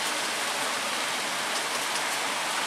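Heavy rain mixed with hail pours down outside during a storm, a dense, steady, loud hiss of drops striking surfaces with no break and no voices.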